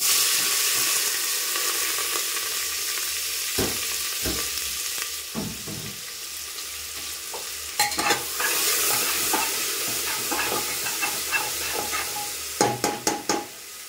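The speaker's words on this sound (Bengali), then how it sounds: "পেঁয়াজটা ব্রাউন করে নেব।" Thinly sliced onions fry in hot oil in a home kitchen, with a steady sizzle running the whole time. Scraping stirs break through it at intervals, ending in a quick burst of spatula strokes.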